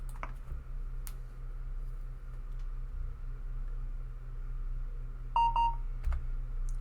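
Telephone keypad tones from a phone in Train Sim 2021, a short burst of dialing beeps near the end over a steady low train cab hum, with a few faint ticks earlier.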